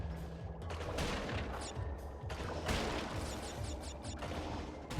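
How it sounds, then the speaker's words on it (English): A small submersible in Crash Bandicoot N. Sane Trilogy fires torpedoes, giving rapid bursts of explosive game blasts and crackling impacts in quick succession, loud and dense across the whole moment. "This actually lets us fire some torpedoes."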